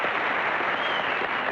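Studio audience at a 1965 television game show applauding, a brief steady burst of clapping at full strength.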